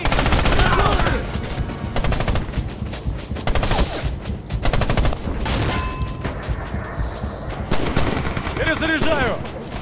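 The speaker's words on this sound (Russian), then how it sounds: "Берегись! Пулемет!" Machine gun fire in the WWII shooter Red Orchestra 2 at Stalingrad: loud repeated bursts of automatic fire with scattered shots and booms, mixed with shouting soldiers throughout.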